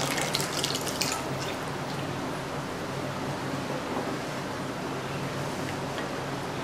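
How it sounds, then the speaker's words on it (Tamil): Dissolved tamarind water poured into a pot of sambar makes a steady, close splashing rush of liquid, loudest at the start and then running on evenly for several seconds, with no talk. "கொஞ்சமாக புளி கரைச்சி ஊற்றிக்கலாம்."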